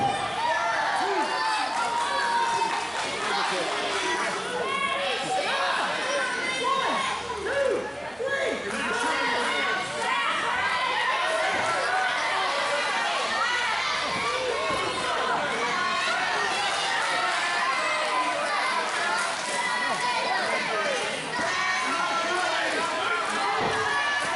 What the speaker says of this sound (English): You can hear the excitement of this crowd.